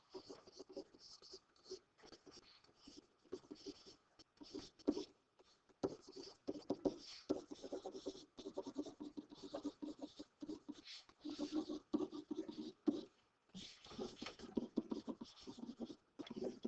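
Pen or marker scratching across paper while the two givens of a geometry triangle-congruence proof are written out, steady and close, with a voice talking over the scribbling.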